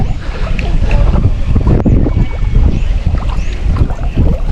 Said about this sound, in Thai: ลมโคตรแรงเลย